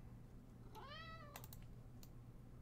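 A house cat gives one short, rising-and-falling meow partway through, faint and close in a quiet room, with scattered computer keyboard clicks before and after it.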